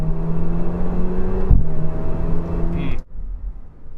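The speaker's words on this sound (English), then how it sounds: "I like the little turbo wastegate pop" A turbocharged Alfa Romeo Giulia engine hums at a steady, loud revving pitch, then a brief hissing wastegate pop cuts off the note sharply as the revs drop to a lower idle rumble.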